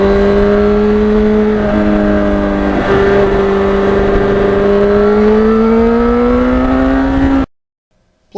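A 1991 Yamaha FZR 1000 motorcycle engine revs loud and close, its pitch climbing then dropping as it shifts through the gears, rising again before cutting off abruptly.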